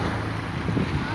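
Both engines of a boat running in reverse: a steady low drone that carries on throughout, mixed with wind buffeting the microphone.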